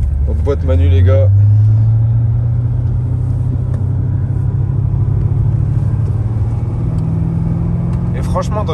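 Red Corvette Z06 sports car with a 7-litre V8 and manual gearbox accelerating, a loud low engine drone that rises steadily in pitch and holds close by, with brief voices at the start and end.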